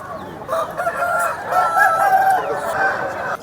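A one-year-old rooster crows at the Nallapadu poultry market, one long, loud, strained call lasting about three seconds with clucking fowl close by.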